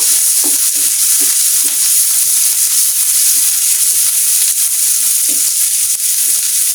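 Chopped onion stir-fried in oil until browned, a steady loud sizzle with regular scraping strokes of a spatula through the pan, no voices.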